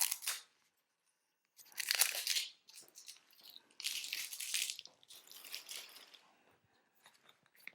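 Scissors cutting open a Scotch Porter beard kit's plastic packaging, close and fairly quiet, in several crunching, crinkling bursts separated by brief pauses.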